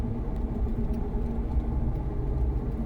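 A 2005 Chevy 3500 one-ton GMT800 pickup truck on the road in Ohio, a steady low engine and road rumble heard from inside the cab, continuous and fairly loud, with no talking.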